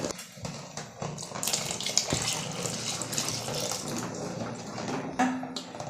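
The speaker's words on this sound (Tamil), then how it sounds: "இன்னும் கொஞ்சம் தண்ணி ஊற்றுறேன்" Water pours steadily into a pot of urad dal porridge (ulundhu kanji), a continuous close splashing gush with no voices.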